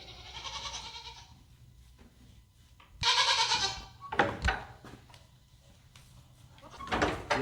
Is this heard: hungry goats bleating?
yes